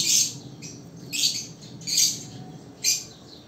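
Lovebirds give four sharp, close squawks and chirps, evenly spaced over a few seconds, above a low, quiet background hum.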